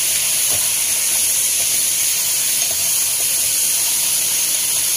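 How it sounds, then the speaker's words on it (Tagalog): A pot of chayote for chicken tinola boils hard, giving a steady, loud, broadband hiss and bubbling roar that stays unbroken throughout. "Kailangan ko itong pakuluan itong sayote."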